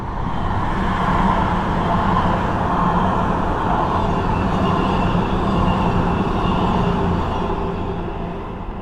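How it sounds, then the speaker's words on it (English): A train passes close by in a long, steady roar with broadband rumble, and the noise stays loud and continuous through the whole stretch with no voices over it. "Sorry train, we were talking then when you clearly wanted to come through"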